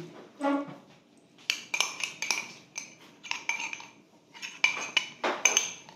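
Liver for sisig is mixed with a metal utensil, close clinks and scrapes against a pan or bowl coming in quick irregular bursts after a short pause, with no talking.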